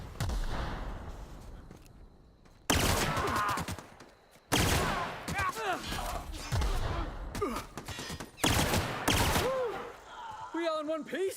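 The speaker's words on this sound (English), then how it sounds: "I did not expect the pistol to shoot like that." Pistol shots ring out in The Outer Worlds video game in several sharp loud bursts separated by pauses, mixed with game effects and a player's voice.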